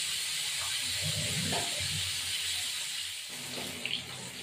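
Bhetki fish fries in a pan, giving off a steady, fairly loud hissing sizzle that runs the whole time, with a faint voice underneath and a small clatter near the end.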